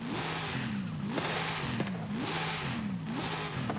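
In Forza Horizon 5, a tuned car with close to 1,000 horsepower revs repeatedly, its engine pitch climbing and dropping in a regular cycle of about four surges, loud and close with no talking.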